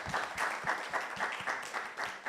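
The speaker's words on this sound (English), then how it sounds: "Let's give her a round of applause again." Steady applause from a crowd, a continuous patter of many hands clapping at moderate distance.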